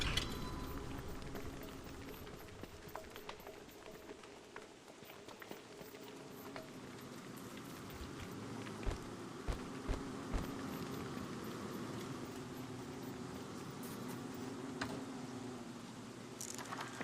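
Steady rain patters throughout in the video game Don't Starve Together, a faint, even hiss of falling drops with a few soft taps scattered through it and no talking.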